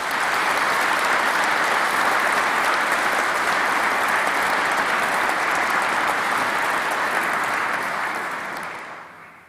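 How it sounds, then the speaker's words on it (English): An audience at a university graduation ceremony applauds the musicians, sustained dense clapping from a large crowd that holds steady and then tapers off at the end. "A round of applause, please,"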